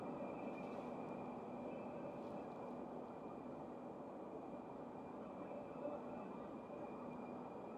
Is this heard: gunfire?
no